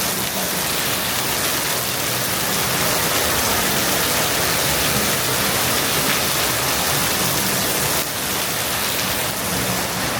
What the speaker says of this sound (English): We're just gonna chill, wait for the rain to subside, but take a look.